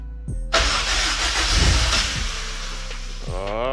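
A fifth-generation Honda Prelude with a swapped F20B engine cranks briefly, catches and settles into a loud, rough idle close to the microphone, then a second crank-like burst near the end.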